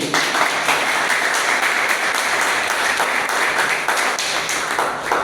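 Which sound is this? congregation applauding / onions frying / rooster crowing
congregation applauding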